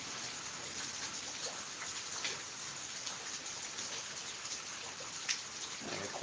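Steady light rain falling outdoors onto grass and puddles, a soft, even hiss with scattered faint drips, fairly quiet.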